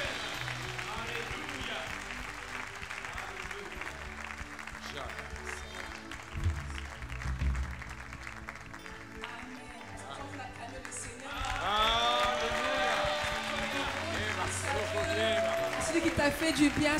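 A church congregation applauds and cheers during a service, a sustained wash of clapping and crowd noise that swells louder toward the end, with voices and singing mixed in.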